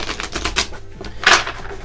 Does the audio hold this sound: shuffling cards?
yes